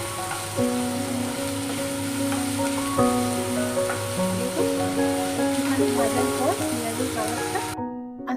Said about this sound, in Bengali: হাইতেই রেখে পেঁয়াজটা ভাজতে হবে